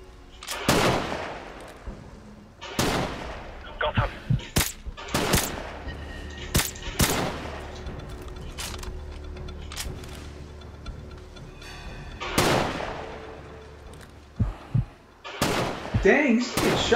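Gunfire in the video game Call of Duty Modern Warfare Remastered: repeated sharp gunshots and bursts at irregular intervals with occasional explosions, over a low background and brief talk.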